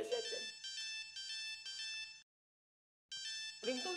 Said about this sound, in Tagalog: Baka ringtone mo yun.